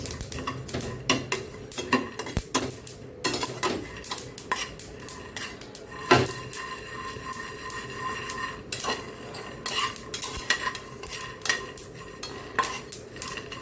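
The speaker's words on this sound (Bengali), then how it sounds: "2 চামচ তেল আর 1 চামচ 4 মগজ এর সাথে একটু ভালো করে ভেজে নিচ্ছি" A spoon stirs and scrapes char magaj seeds frying in two spoons of oil in a pan, giving irregular metallic clinks and knocks against the pan over a faint background sizzle.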